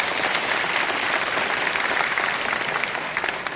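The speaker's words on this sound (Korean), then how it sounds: "박수 한번 치겠습니다." Seminar audience breaks into sustained, even applause, many hands clapping in a dense, continuous wash at moderate distance, with no voices on top.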